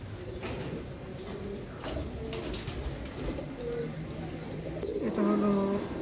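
Breeder pigeons coo in low, soft bursts against a steady background murmur, with a clearer, louder coo near the end.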